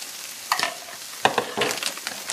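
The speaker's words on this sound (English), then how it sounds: "we're going to put the onions and pepper and bacon into it." Onions, pepper and bacon fry in a pan as they are stirred, giving a soft steady sizzle broken by scraping and clacking bursts from the utensil, close and moderately quiet.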